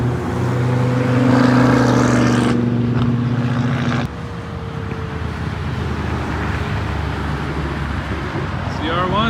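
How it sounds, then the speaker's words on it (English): Loud car exhaust roaring close by as a vehicle accelerates and passes in traffic, the drone breaking off sharply, then fading into road noise. "Yeah, it is loud. That's got to have an exhaust."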